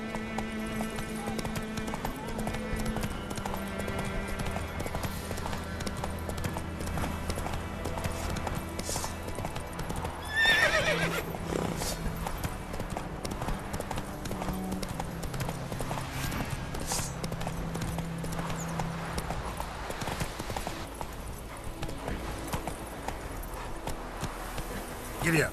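Hoofbeats of the horse Roach galloping in The Witcher 3, a steady rapid clip-clop running throughout over game music and ambience, with a brief louder burst midway and a voice speaking briefly.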